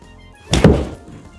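A single solid thunk of a golf club striking a ball on a driving range, close by and fairly loud, with a short fading tail.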